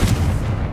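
Confringo blasting spell in Hogwarts Legacy: a single loud, booming explosion with a sharp onset and a heavy rumbling body lasting under a second.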